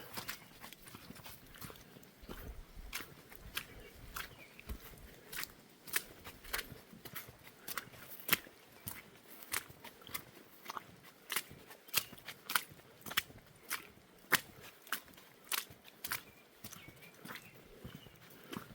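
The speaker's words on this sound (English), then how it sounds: "Nice dry gravel under my boots." Hiking boots crunch over dry gravel and stone on a trail along the Appalachian Trail in North Carolina, with sharp, regular footsteps close by and a steady walking rhythm throughout, under faint outdoor ambience.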